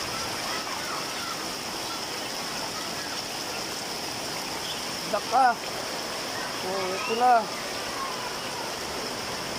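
Floodwater rushes near a house in a steady broadband wash that runs throughout, with a few brief voices talking over it partway through.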